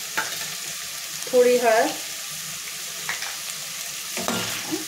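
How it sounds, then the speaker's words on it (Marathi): Sauce with dark soy sauce, tomato ketchup and pasta masala is stirred in a sizzling pan, a steady fry hiss with soft scraping strokes, and someone speaks briefly partway through. "छान मिक्स करून घ्यायचे।"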